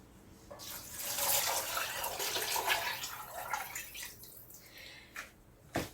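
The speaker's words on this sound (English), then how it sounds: "All right, and then we're going to add 8 cups of water." Water pours into a pot of beans as eight cups are added in the kitchen, a steady close splashing rush that swells and then trails off into a few small trickles and clinks.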